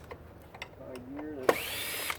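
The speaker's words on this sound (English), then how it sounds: "Drill." A power drill whirs briefly while wiring is worked on at an electrical panel, a short high-pitched burst after quiet handling sounds, close and fairly soft.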